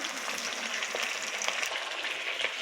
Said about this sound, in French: on va faire revenir dans l'huile jusqu'à ce que ça soit un peu transparent. Les oignons soient translucides